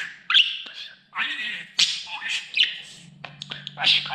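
A pet budgerigar chirps and squawks up close in quick, bright bursts with warbling chatter between, while a person's voice breaks in softly at moments.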